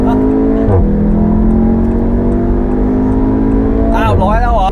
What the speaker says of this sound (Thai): เจ้า Audi TTS คันนี้เนี่ยมันขึ้นชื่อเรื่องการขับขี่มากๆอย่ารอช้าครับผมเอาไปลองกันเลย